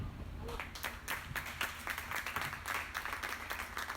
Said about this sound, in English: Please put your hands together for her. Clap very well now, clap very well.